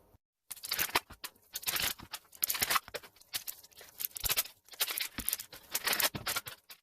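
Blind-bag Doodle Bops toy packaging being torn open up close: rapid crinkling, rustling and tearing bursts of plastic that come in busy clusters with brief pauses, loud and continuous for several seconds with no talking.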